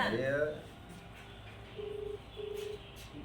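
Phone dialing tones on a mobile call: a few short, steady electronic beeps after a brief higher chime, faint and close against a quiet background.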